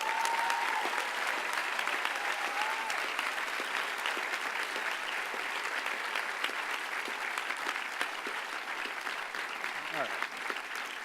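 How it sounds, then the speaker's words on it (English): Graduation ceremony audience applauding parents and family: a large crowd's steady, dense clapping rolls on unbroken for about eleven seconds at an even, fairly loud level. "a round of applause for the parents and family."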